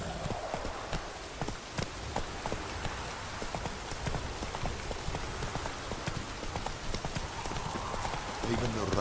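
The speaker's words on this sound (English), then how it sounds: "Even the rain smells different here." Steady rain patters over the whole stretch in The Witcher 3: Wild Hunt, mixed with a rhythmic clip-clop of horse hooves moving at a trot.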